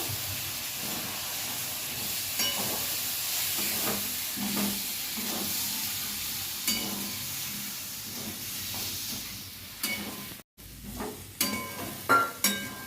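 Ground masala with a splash of water sizzles and hisses in a hot pan while being sautéed for Kashmiri aloo dum, a steady loud frying hiss with stirring scrapes and a few sharper clatters near the end.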